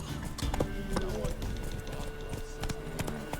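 Roach the horse gallops in the video game The Witcher 3, with quick rhythmic hoofbeats drumming steadily under voices and other game sound.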